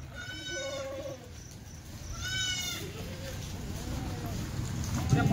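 Kathiawadi goats bleat nearby in short, wavering cries, first two calls and then a fainter, drawn-out one, with a low background murmur under them.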